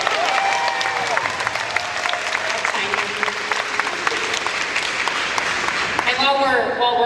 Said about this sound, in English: an amazing round of applause for Dee, who has been hosting this entire show here